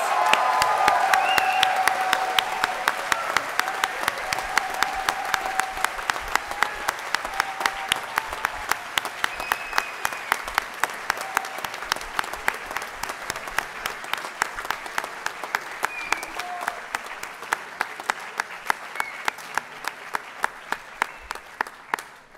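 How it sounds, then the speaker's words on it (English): A large audience applauds graduates at an engineering management diploma ceremony, with loud, sustained clapping and brief cheers early on. It thins over about twenty seconds into a few rhythmic claps near the end. "Let's have one booming round of applause for all of our graduates"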